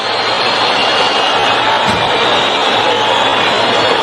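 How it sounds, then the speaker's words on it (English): A stadium crowd at a Portugal versus Algeria international football friendly reacts to a VAR review, a loud, continuous roar of massed voices holding steady and swelling briefly in the middle. "The crowd making their opinions heard."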